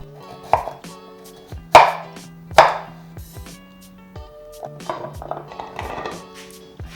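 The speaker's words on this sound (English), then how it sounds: "we're going to slice ginger, garlic, chop green onion into 1-inch pieces, and chop taros into chunks" A knife chopping ginger, garlic, green onion and taro on a cutting board, a handful of sharp, close strikes at an uneven pace, some sliding cuts between, with no talking.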